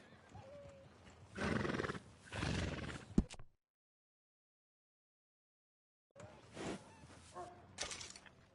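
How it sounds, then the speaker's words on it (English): A horse whinnies in Red Dead Redemption 2, clear and fairly close, in two bursts broken by a sharp hoof knock and a few seconds of silence, then a softer whinny follows. "And a fine new horse."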